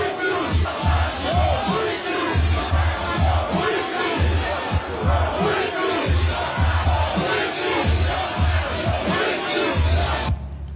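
A rally crowd cheers and chants in loud, rhythmic bursts, rising and falling in a regular beat with yells and whoops layered over it, then cutting off abruptly near the end.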